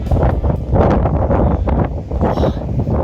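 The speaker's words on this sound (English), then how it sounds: "Quite windy." Strong gusting wind at a reservoir in Wales in subzero wind chill buffets the microphone with a heavy rumbling roar, loud and continuous throughout with no voices.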